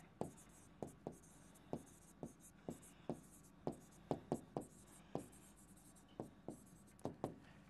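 A pen scratches across paper in short, rhythmic strokes, a steady series of faint, close ticks and scrapes over a quiet background.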